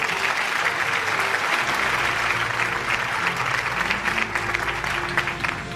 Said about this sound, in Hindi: न्याजी साहब के लिए भरपूर तालियां होनी चाहिए जी